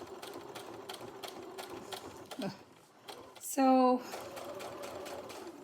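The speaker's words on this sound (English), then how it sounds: "I ran out of bobbin thread, and I'm gonna finish sewing this." A home sewing machine stitches a fabric project bag, running in steady rhythmic bursts close by with a brief pause and a louder whirring burst near the end, and a voice speaks briefly over it.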